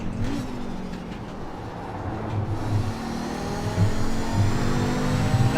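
An Audi 90 Quattro GTO race car in the iRacing sim holds a steady, droning mid-pitched engine note on a straight, with a faint whine of rising revs underneath and no voices.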